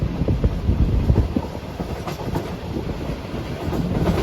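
The 27UP Shalimar Express, running between Karachi and Lahore, rolls steadily along the rails with a dense, continuous rumble and rhythmic clickety-clack heard from inside a coach.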